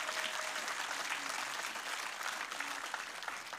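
A church congregation applauds together, dense, steady clapping that fills the whole few seconds with no break.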